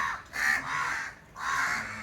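A crow caws twice, loud and near, each harsh call lasting about half a second to a second, separated by a brief pause with no talking.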